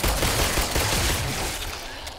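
Gunfire in The Brookhaven Experiment, a PS VR shooter game: a dense burst of overlapping shots crowding the first half, loud and close, thinning slightly toward the end.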